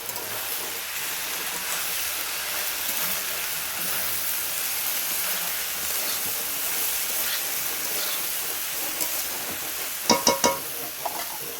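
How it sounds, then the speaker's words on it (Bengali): Red amaranth greens and potatoes fry with spices in a pan for a fish-head chorchori, giving a steady close sizzle and hiss, with a short burst of spoon scraping and clatter near the end. "এবার আমি শাকটা দিয়ে দেবো, দিয়ে ওইটাও আমি মশলার সঙ্গে ভালো করে ভেজে নেব"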